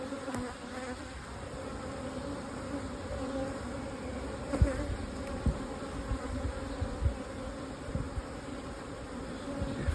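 Honeybees of a mixed Italian and Carniolan stock buzz in a nuc hive, a dense continuous hum from many bees close by, with occasional louder individual buzzes passing near.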